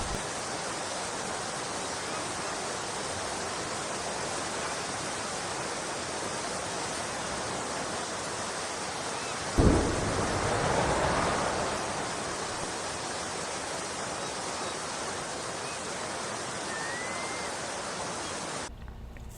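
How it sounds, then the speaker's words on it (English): Steady rushing water, like a stream or waterfall, runs as a broad, continuous hiss throughout, with a brief louder surge midway before settling back to an even flow. "That's water."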